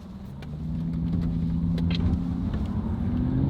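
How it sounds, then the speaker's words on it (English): An Aston Martin V8 Vantage with Bamford Rose upgrades, in D mode, creeps forward from a standstill as the brake is released. The engine gives a steady low rumble that swells slightly, heard from inside the car. "all I'm going to do is lift the brake"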